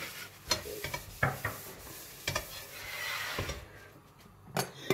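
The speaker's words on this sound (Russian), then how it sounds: "Морковкой хочу капусту потушить." Cabbage and carrot stew in a pan as a utensil stirs them, giving quiet, irregular scraping strokes over a faint sizzle, with no talking.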